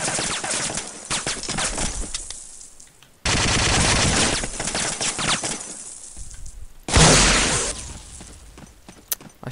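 Rapid bursts of gunfire from a World War II shooter game, Day of Defeat, with dense volleys of shots, a brief lull and a sharp, loud burst near the end.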